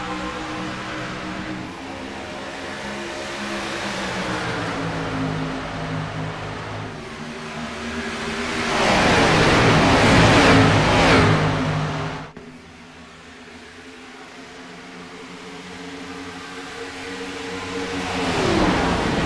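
Race cars roar through the restart at the PeachTree 200, engines droning and then surging loudly as the pack accelerates past, fading and building again.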